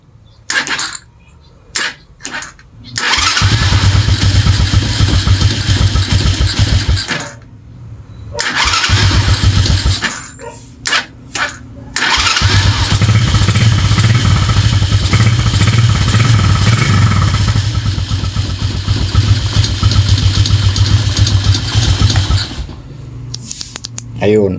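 A motorcycle's electric starter, newly wired with a starter relay and push button, cranks briefly, then the engine catches and idles steadily, cutting off and restarting a couple of times with short clicks between.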